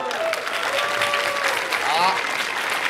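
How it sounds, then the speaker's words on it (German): Audience applause at a science slam on stage, a steady wash of clapping with voices calling out over it throughout. "Bitte einen Applaus."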